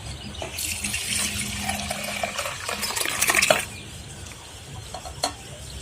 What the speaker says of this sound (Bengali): এখন এই দুধটা এই ভাঁড়ের মধ্যে ঢেলে দিচ্ছি।